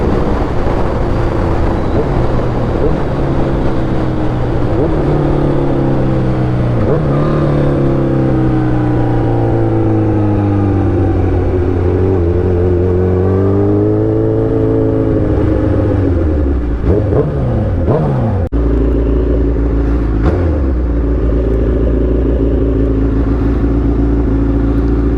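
A Suzuki Hayabusa motorcycle engine, loud and steady, its pitch rising as the bike accelerates through gears, dips, then climbs again, with a heavy low rumble that drops to a deep idle near the end.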